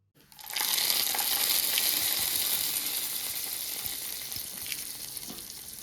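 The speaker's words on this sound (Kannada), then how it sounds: "ನಂತರ ಇದಕ್ಕೆ ಒಂದು ಒಗ್ಗರಣೆಯನ್ನ ಕೊಡುವ" Hot tempering (oggarane) poured into fenugreek tambuli sizzles loudly and steadily from the start, a dense crackling hiss that slowly eases over several seconds, close up with no talking.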